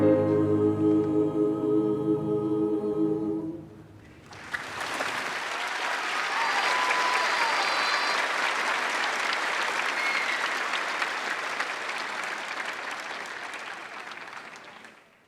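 Applause from a high school commencement audience for the senior chorale swells right after the choir's final sung notes fade, then holds as steady, dense clapping from a large crowd before tapering off at the end.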